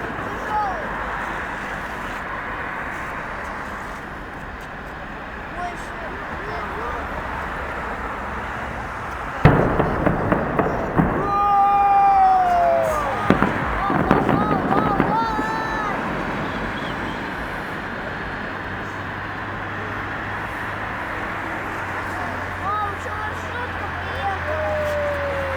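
A festive fireworks salute for Soviet Army and Navy Day in Kaliningrad sounds as a cluster of distant booms and crackling bursts midway through a steady outdoor rumble. People talk throughout.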